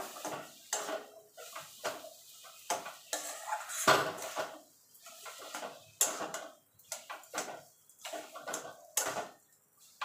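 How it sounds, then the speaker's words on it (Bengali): Palm milk mixture stirred in a metal pan on a gas stove, repeated close scrapes and clinks of a utensil against the pan in an irregular rhythm, with a soft sizzle between strokes and no talking. "এবার এটাকে আমি মিনিট 5 একটুখানি নাড়াচাড়া করে রান্না করে নেব"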